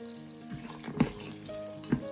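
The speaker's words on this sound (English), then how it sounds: "I'll also add the cashew nuts so that they get fried along with the spices, the raisins too." Cashew nuts and raisins fry with spices in a pan for pulao, giving a soft, close sizzle broken by a few sharper stirring clatters, with no talking.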